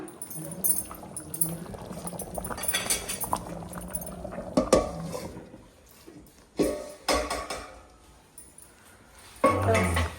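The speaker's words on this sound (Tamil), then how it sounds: "கருவாடு சேர்த்து ஒரு 5 நிமிஷம் இருக்கட்டும்." A South Indian dry fish curry (kuzhambu) of neththili anchovies simmers in a pot after the dried fish goes in, with a steady bubbling hiss under clinks and scrapes of a utensil against the pan, close by.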